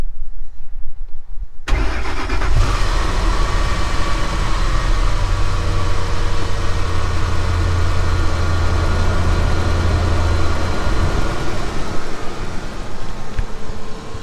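A truck that had died from fuel trouble cranks and starts after a quiet opening, then settles into a steady, fairly loud idle with a low rumble heard up close.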